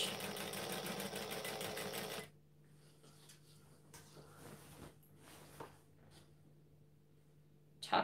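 A domestic sewing machine runs steadily for about two seconds, stitching down the tucked edge of a gathered skirt with elastic, then stops, leaving faint handling rustles and a low hum in a quiet room.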